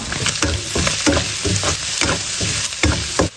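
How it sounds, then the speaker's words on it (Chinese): Minced pork with chopped scallions and ginger stir-fried in a hot wok, loud crackling sizzle broken by rhythmic scraping strokes of a spatula, close up with no talk. "炒出油脂，下葱花和姜末"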